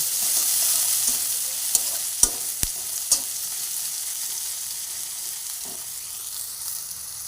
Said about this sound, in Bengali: এটাকে দিয়ে ভালো করে নেড়ে চেড়ে হালকা ব্রাউন করে ভেজে নেব